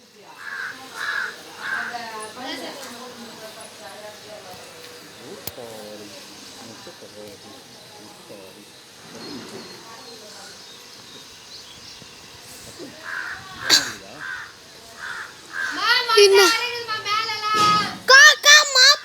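Crows caw repeatedly in short harsh bursts, scattered at first and then more frequent and louder toward the end, with children's and adults' voices chattering intermittently in the background outdoors.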